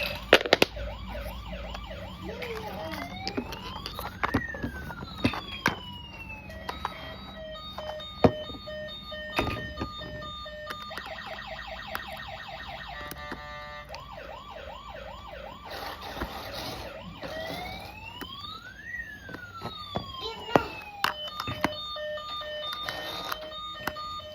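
Battery-powered toy police car and ambulance sirens wail and cycle through several patterns, rising and falling tones alternating with rapid warbles, steady and fairly close with a faint background hum.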